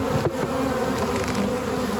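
A dense, steady buzz of many bees droning close by, continuous and fairly loud with no voices.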